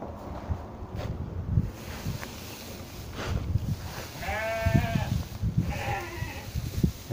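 Newborn sheep bleat several times close by during silage making from rice straw, the cries rising over rustling and handling noise.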